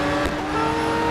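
Jaguar Le Mans prototype race car in a racing video game, engine droning at steady high revs with a brief swell as it passes, loud and close.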